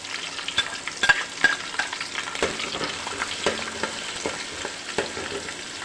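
Chopped garlic, ginger and chillies fry in hot oil for a chicken curry, giving a close, continuous crackling sizzle with occasional sharp pops and light stirring taps. No voices are heard.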